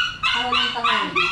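A dog gives a short run of about three high, whiny yips and barks close by, each burst quick and tightly spaced.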